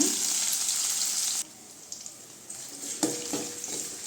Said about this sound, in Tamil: வெங்காயம் கொஞ்சம் வதங்கட்டுங்க